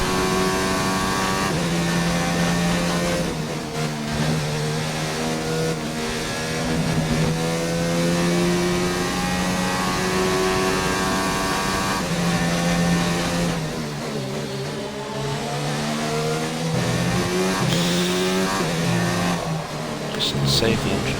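An F1 car engine in the F1 2019 racing game drones and shifts pitch through a lap, rising and dropping with gear changes, loud and continuous beneath someone talking.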